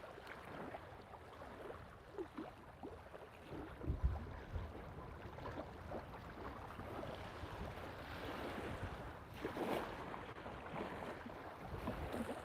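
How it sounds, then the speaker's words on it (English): Wind gusts across a lake during bass fishing, a continuous broad rushing roar with microphone buffeting and occasional stronger bursts, no voices. "Damn wind is not supposed to be blowing like it is today."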